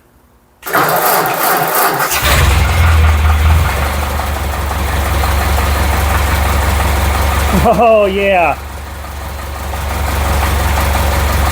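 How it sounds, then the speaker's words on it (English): A restored 1940 Ford 9N tractor engine cranks and catches after two years unrun, then settles into a loud, steady idle up close; a voice speaks briefly over the rumble. "Oh, man, I haven't heard that engine run in a while."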